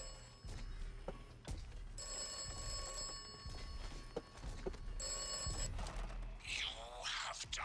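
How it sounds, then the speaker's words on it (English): An old telephone bell rings in repeated bursts with short pauses in Atomfall, loud and near over background game ambience, followed by a rustling noise at the end. "Oh, the phone's ringing."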